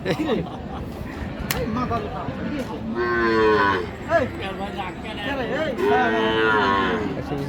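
Sahiwal cows at a busy cattle market lowing in long, loud moos, several calls close by, over steady chatter and talking from buyers and sellers.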